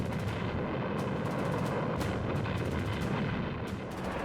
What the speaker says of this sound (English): As the Panzers drove toward Alam Halfa Ridge, hidden guns erupted.